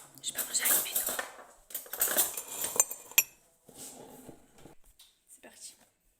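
A metal spoon clinking and scraping in a bowl of cereal with milk, a few bright, close clinks in two short bursts, followed by quieter rustling and soft speech.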